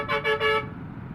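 Car horns toot in three short bursts over steady road noise in heavy rush-hour city traffic in Commonwealth, then the engine rumble carries on alone.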